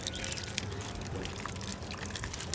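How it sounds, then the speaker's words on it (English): Water poured into buckets holding date palm seeds, a steady splashing trickle heard close up for a couple of seconds with no talk. "We got all 13 seeds in the buckets, and now we're putting water in them"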